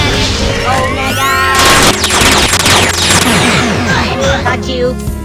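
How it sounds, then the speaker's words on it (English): Photonic cannon special attack in the mobile fighting game Skullgirls Mobile, a dense barrage of booming blasts, crashes and zapping bursts layered with game music and effects, with a person talking over the action. "Insert photonic fake attack cannon."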